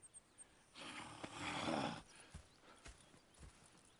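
In the video game Red Dead, hooves clip-clop at an easy pace while a horse lets out a loud whinny partway through, followed by more scattered hoof steps.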